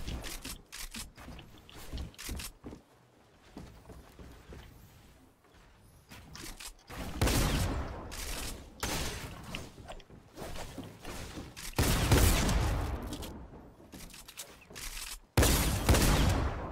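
SMG fire in a video game, heard as several short rapid bursts between quieter stretches of clicks and movement, fairly loud when shooting.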